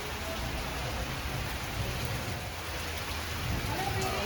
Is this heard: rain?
yes